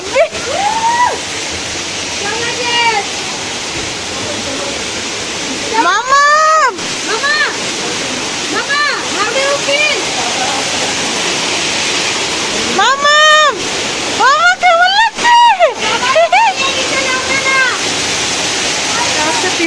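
Seven Sisters Falls near Cherrapunji roars loudly and continuously, a broad rushing wash of water, with voices talking over it at times.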